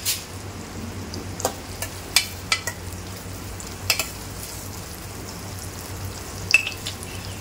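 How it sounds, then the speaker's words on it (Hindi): Chopped onions for chicken keema karela land in a hot pan and hiss steadily, with scattered spoon clacks against the pan at irregular moments and no voice over the cooking. "अब यहाँ पे जो मैंने प्याज कट करके रखी हूँ ये डाल दूँगी।"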